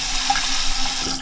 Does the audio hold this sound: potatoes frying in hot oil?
no